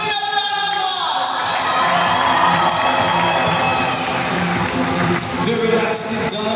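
Arena crowd at a minor-league hockey game between the Atlanta Gladiators and South Carolina Stingrays applauds and cheers loudly and steadily, with shouts and whistles mixed into the sustained roar.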